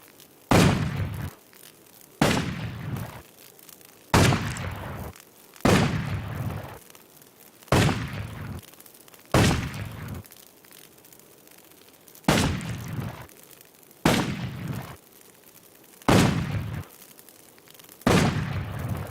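Gunshots in a shooting contest in the video game Risen 2: about ten loud, close, booming single shots fired at a slow, fairly regular pace, each with a short decaying tail.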